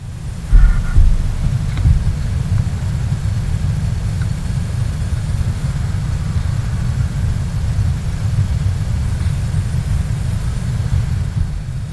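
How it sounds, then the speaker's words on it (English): A deep, continuous roar of an oxygen-fed furnace flame melting copper, low and rumbling like a jet engine, steady throughout with a brief thump near the start. "Once the oxygen valve is open, the flame moves inside the furnace, and it sounds like a jet engine."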